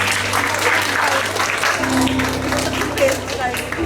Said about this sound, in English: कितना बड़ा round of applause किया आपने सबके लिए